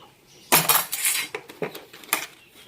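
Dishes and cutlery are flung down and clatter loudly in a series of sharp crashes and metallic clinks, several bursts in quick succession, close by.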